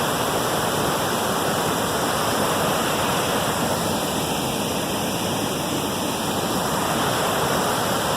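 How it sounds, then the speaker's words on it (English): Rapids on the Brule River rush down toward a waterfall near Devil's Kettle, a loud, steady, broadband roar of churning whitewater filling the whole stretch without pause. "Here's the rapids coming down to the falls."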